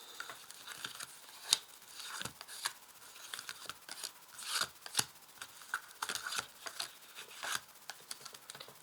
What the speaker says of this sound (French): Alors, je vais tirer 8 cartes ici.